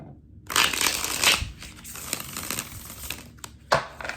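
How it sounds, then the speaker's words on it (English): A deck of tarot cards, slightly larger than playing cards with a smooth matte finish, is riffle shuffled close up: a crisp fluttering burst followed by softer bridging riffles and a final snap. "Beautiful riffle shuffle."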